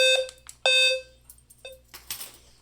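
A fire alarm device on a demo board sounds in sharp electronic tones, one short beep followed by a longer one, then fainter trailing chirps and clicks, close and fairly loud.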